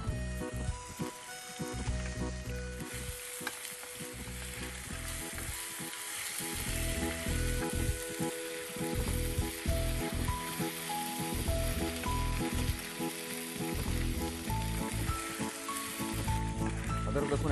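Ginger and garlic paste sizzles and crackles steadily in hot oil in a pan, a loud continuous frying hiss with occasional stirring scrapes and no talking.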